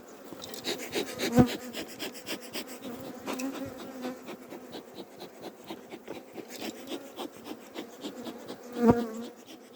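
Honeybees hum in a dense, steady drone at an opened beehive during an early spring check in Adana, close by, with a few louder passes and wooden rubbing or scraping of the hive.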